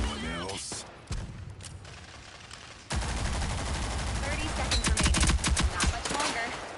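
Bursts of video game gunfire crackle in sharp clusters, loud rapid volleys starting and stopping, with a dense stretch of repeated shots near the end.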